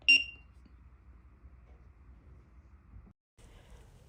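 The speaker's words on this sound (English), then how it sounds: "I'm going to hold it down right now, and you should hear a beep." An Aosu D1SE security camera gives one short, sharp electronic beep as its sync button is held down, clear at the start and followed by quiet low background hum.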